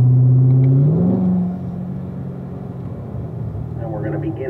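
Corvette engine on a racetrack, a strong low drone that drops in pitch as the gear changes up to fourth, then settles into a steady rumble, with a voice speaking over it.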